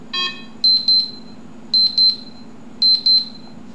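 An alarm tone plays on a Nothing Phone 1, a loud electronic pattern of paired high beeps repeating at an even pace after a brief opening chirp, close and clean over a faint hum.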